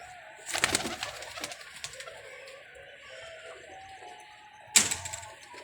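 Pigeons coo softly in a loft, low rolling calls running through quiet surroundings, with two louder bursts of fluttering or handling noise near the start and again toward the end.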